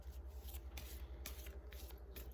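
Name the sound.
tarot cards being shuffled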